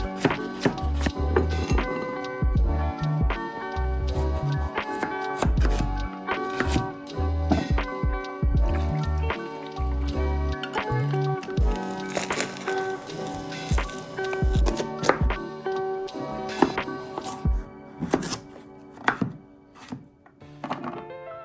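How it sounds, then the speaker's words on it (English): A knife chops carrots, onions, leek, pumpkin and red cabbage on a board in a long run of close, sharp thuds, sometimes in fast bursts and sometimes slower, with soft rustling of the vegetables between cuts. "So today I'm gonna cut the carrots, the onions, the leek, a pumpkin"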